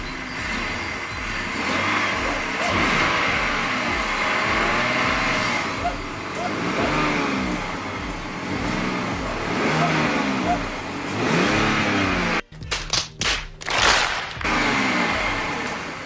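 A BMW E60 car engine idles and hums steadily with a few revs after an engine flush, while someone talks over it close by; brief clicks near the end.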